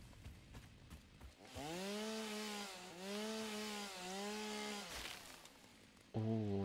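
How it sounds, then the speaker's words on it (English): Chainsaw cutting a tree in the video game Satisfactory, a buzzing motor that revs up, holds a steady whine with small dips in pitch, then cuts off and restarts near the end, after some quiet clicking. "I've never used a chainsaw."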